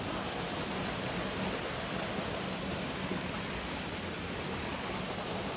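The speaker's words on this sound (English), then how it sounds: "Oh, it's a waterfall." A garden waterfall in Boca Raton, Florida roars in a constant, dense rush of falling water, steady and even throughout with no other sounds.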